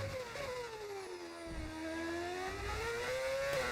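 A Formula One racing car engine from a sound mod for an F1 racing game, whining loudly as its pitch sweeps down and then climbs back up during a run through a race.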